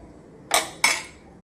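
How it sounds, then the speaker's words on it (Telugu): A spoon knocks twice against a pan while horse gram, potato and tomato curry is stirred on the stove, two sharp metallic clinks close together, then quiet. "టమాటాల్లోకి ఈ బొబ్బర్లు వేసుకొని చక్కగా ఇలా కయ్య తిప్పుకొని కొద్దిసేపు స్టవ్ మీద ఉడకనియాలి"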